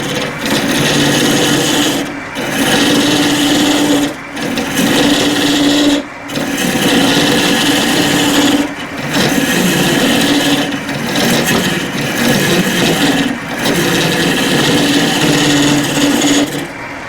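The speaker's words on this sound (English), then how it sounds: "I'm going to go to my round carbide cutter. Very aggressive tool." A round carbide cutter works a wooden vase on a lathe, giving a loud, coarse scraping rasp in long passes that break off briefly every two seconds or so, no talk over it.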